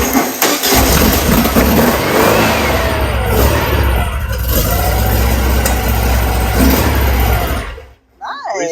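A VW Beetle with a fresh crate engine cranks briefly, catches and runs, revving loudly and unevenly at close range for several seconds before cutting off abruptly.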